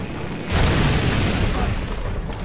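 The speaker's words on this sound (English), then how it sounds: "Oh, that's a rocket launcher." Rocket launcher explosion in Far Cry 2: a heavy rumbling boom swells about half a second in and rolls on with a dense, sustained roar to the end, with voices talking faintly underneath.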